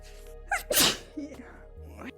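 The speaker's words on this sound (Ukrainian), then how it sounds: "Будь здорова, дякую." A woman sneezes sharply and close by, with a short inhale before the burst, followed by brief speech.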